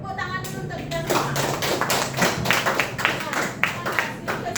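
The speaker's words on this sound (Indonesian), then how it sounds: "tepuk tangan dulu untuk kita semua" A classroom group applauds together at the end of a lesson on electrical safety, a dense run of clapping that sounds close and lively, with voices mixed in beneath it.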